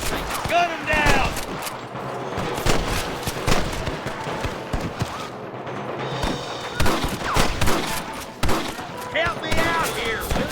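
Red Dead Redemption gunfight with rapid rifle and pistol shots cracking close and far in dense bursts, layered with shouting voices and game effects.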